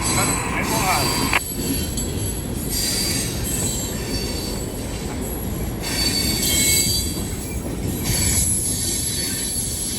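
A train rolls steadily past on rails, wheels squealing in high drawn-out tones over a constant low rumble, fairly close and loud throughout.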